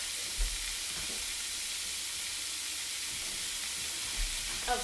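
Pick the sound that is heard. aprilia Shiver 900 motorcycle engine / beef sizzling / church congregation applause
beef sizzling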